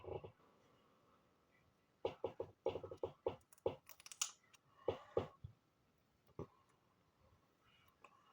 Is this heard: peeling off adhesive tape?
yes